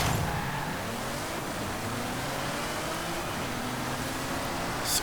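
A 600-horsepower car engine in Forza Horizon 5 hums steadily at a low, even drone during a seasonal championship race, fairly quiet with no speech.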